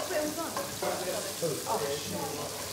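Fish pressed flat with a spoon fries in a pan on high heat, giving a soft continuous sizzle under a person talking nearby.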